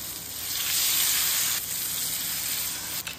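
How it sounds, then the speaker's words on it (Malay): Bread pieces fry in hot oil in a home kitchen, a steady bright sizzle that swells slightly and holds evenly, close and fairly loud with no voices. "3 kalilah goreng sebab satu gorengan saya masukkan 4 ketul saja roti"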